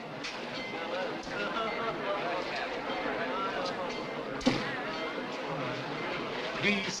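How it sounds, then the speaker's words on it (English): A train pulls out of a station in a 1946 film, with steady rolling rumble and clatter of railroad cars continuing beneath spoken dialogue, and a sharp clank midway. "Train leaving, if you please."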